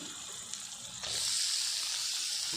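Cleaned raw meat goes into hot fried spice paste for a Bengali meat curry, setting off a loud, steady sizzling hiss about a second in that keeps going strongly to the end.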